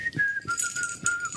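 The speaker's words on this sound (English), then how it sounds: "put your lips together and then you do a whistle." A person whistling a short series of clear, high, wavering notes with brief breaks between them, close and fairly quiet with no talk.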